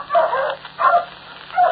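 Pointer dogs bark on a hunt in an old radio drama: three loud, close, rough barks spaced about every 0.7 seconds, with no voices in between.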